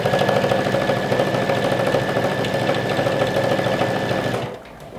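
A sewing machine runs steadily, stitching down a shirt pocket in a rapid, even mechanical whir that stops sharply near the end.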